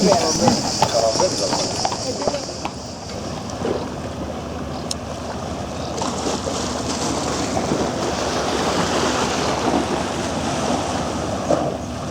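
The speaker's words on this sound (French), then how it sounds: "des bruits de sabots se font entendre. C'est l'heure où les calèches sont de sortie." Hooves of horse-drawn carriages clip-clop in a seaside Greek town at sunset, a steady trotting rhythm heard through wind and ambient street noise. A narrator speaks over it throughout.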